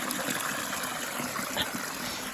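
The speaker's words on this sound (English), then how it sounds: "this water, which is being diverted from a creek, if it weren't able to flow through" Creek water diverted through a permaculture channel, flowing as a steady close trickle and stream with constant watery texture, no voices.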